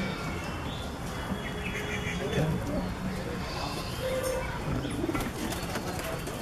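A small tumbler pigeon coos softly in a loft, its low murmurs half-buried under someone talking and constant background noise.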